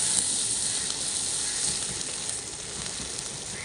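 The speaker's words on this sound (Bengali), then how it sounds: "নারকেল কুচিটা দিয়ে 5 মিনিট ভালো করে ভেজে নিতে হবে" Grated coconut fries in a pan with green chillies for a vegetable chop filling, giving a soft, continuous sizzle and hiss that stays even and moderately quiet throughout.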